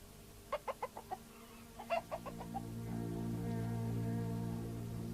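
A rooster clucks in two quick rhythmic bursts of short calls, close and clear, followed by a steady low hum with no further calls.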